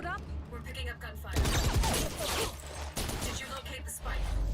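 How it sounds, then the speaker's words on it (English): Bursts of rapid gunfire in the video game Valorant crackle and rattle in the middle, loud and close, with voices speaking before and between the shots. "We're picking up gunfire."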